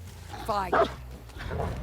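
A dog in the game Dead by Daylight gives a short rising whimper and a yip, brief and moderately close, with a person talking around it.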